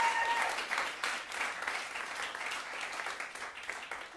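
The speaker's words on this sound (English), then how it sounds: "can we just have a round of applause for women for a minute?" Applause from a comedy show audience fills the room, steady and dense clapping that holds close and fairly loud throughout with no talking over it.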